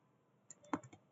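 A few quiet computer keyboard keystrokes, five or six quick clicks bunched in about half a second, faint and close, with near silence before them.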